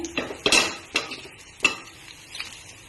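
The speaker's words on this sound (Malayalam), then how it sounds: "ചുമന്ന മുളക് ഞാൻ ആദ്യമായിട്ട് അതിലേക്ക് ഇടുകയാണ്" Red chillies and coconut pieces stirred and frying in a pan, a few sharp scraping and clinking stir strokes over a faint sizzle, close and quiet.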